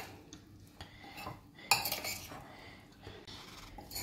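Utensils clink and scrape against a bowl while sweet corn chaat is stirred with lemon juice, a sharp clatter standing out midway amid steady quieter mixing.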